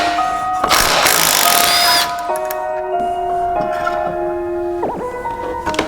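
Hand and power tools work on a snowmobile while its secondary clutch and drive belt are removed. A dense burst of mechanical rattling comes first, then a whining tool note stops and starts in short runs, close by.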